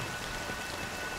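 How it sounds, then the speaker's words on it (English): Rain pours down as a steady, dense hiss of drops close at hand, with no talking. "it's still raining."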